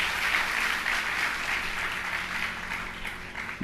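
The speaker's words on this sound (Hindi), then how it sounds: "तालियां बजा दो इन बच्चों के लिए।" A gathered audience at a Jain religious discourse in Siddhvarkut applauds some children, giving a dense, continuous burst of clapping that stays even and moderately loud with only faint voices beneath.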